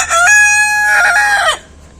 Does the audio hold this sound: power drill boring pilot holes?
no